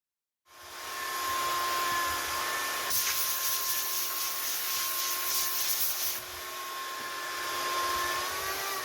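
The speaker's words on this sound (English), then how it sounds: "This is just the start from an awful lot of sanding." A power sander whirs steadily for several seconds on a wooden cutting board, with a brighter gritty rasp in the middle stretch as it works the surface.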